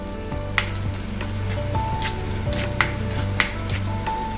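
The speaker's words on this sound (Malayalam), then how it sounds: "നേരെ ചെറിയ ഉള്ളി ഇട്ട് കൊടുക്കുകയാണ്." Small onions sizzle steadily in hot oil in a pan for an ivy gourd stir-fry, a continuous close crackle with a few sharper pops and faint stirring.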